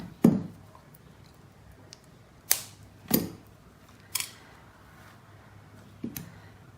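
Cutters snip memory wire, giving several sharp, close clicks spaced unevenly over a few seconds against a quiet background.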